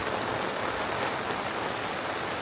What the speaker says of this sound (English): now it pours down with rain